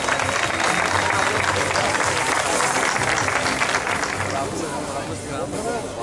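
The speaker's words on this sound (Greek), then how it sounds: "Ένα χειροκρότημα." A crowd applauds at the first Greek national Chem-E-Car competition as a Thessaloniki team reaches the starting line; dense, steady clapping fills the whole stretch with some background voices mixed in.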